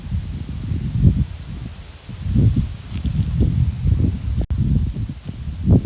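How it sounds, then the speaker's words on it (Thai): Wind gusts through autumn-coloured leaves outdoors in Sweden, a steady, low, rumbling buffet of air with rustling that swells and eases in waves, close to the microphone, with no voices. "มีเสียงลมชัดเจนมาก"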